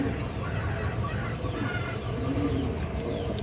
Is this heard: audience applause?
no